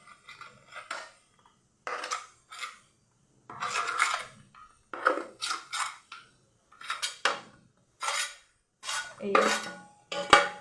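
A knife cuts through rolled nimki dough for a fried snack, making about a dozen short, close scraping strokes on a board in uneven bursts separated by silence. A single brief spoken word is heard.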